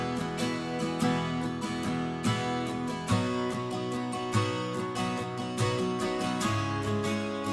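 Doubled acoustic guitar tracks strum chords together with EQ, heavy compression and a touch of reverb, a full, even, rhythmic wash with regular strum accents and no voices.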